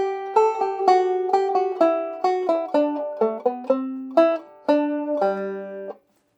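Simplified arrangement of the bluegrass fiddle tune Blackberry Blossom picked on guitar, a steady run of clear plucked notes at moderate tempo, ending on a sustained low chord, with no talking.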